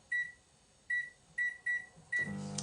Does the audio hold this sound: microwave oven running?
yes